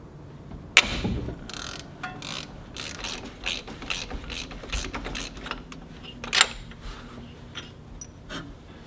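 A hand ratchet clicks rapidly and close by while removing the lower timing cover standoff on a BMW 323i E21. Several bursts of ratcheting are broken by short pauses, with a sharp metallic clink near the start and another later.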